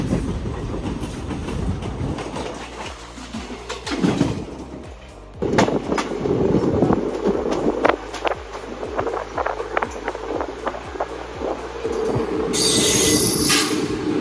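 The Tea Garden Express rolls past another train at close range, a steady rumble with rhythmic clickety-clack of wheels over rail joints and a high squeal from the wheels.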